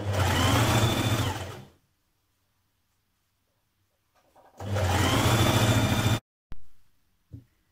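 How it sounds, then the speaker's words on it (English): A sewing machine stitches around pocket edges in two bursts of steady high-speed whirring, separated by a pause, followed by a few short stops and starts. "Stitch around your pocket edges. You can overlock them or just stitch them on the machine for now"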